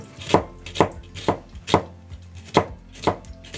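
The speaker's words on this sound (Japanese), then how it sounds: "ごく細かいみじん切りにします。" A kitchen knife finely minces an onion on a cutting board in Japanese cooking prep. There are eight evenly spaced, close chopping strikes with no talk.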